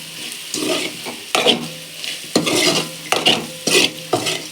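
Food sautéed with asafoetida in a pan, stirred in repeated bursts with a clatter of spoon against metal, close and moderately loud, with no talk.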